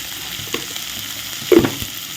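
Onions with salt sautéing in a pan, a low steady sizzle broken by a few brief stirring scrapes, one louder scrape near the end, close up and without voices.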